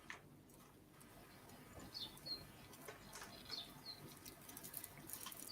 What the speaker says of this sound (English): who's got the bird tweeting? That is so soothing.